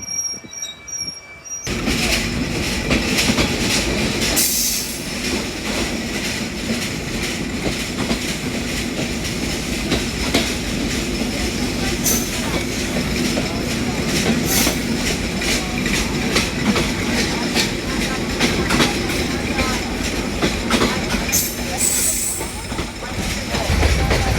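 Kapotaksha Express passenger train running from Rajshahi to Khulna, a loud steady rumble with rhythmic clickety-clack of wheels and occasional squeals, heard from on board with a voice talking now and then.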